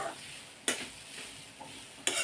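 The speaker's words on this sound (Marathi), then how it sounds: "हा जो ओला नारळ आहे तो तुपामध्ये दोन मिनटं परतून घ्यायचा" Grated fresh coconut stirred and sautéed in ghee in a pan, a soft low sizzle with two sharp scraping stirs of a spoon against the pan, close and quiet with no talking.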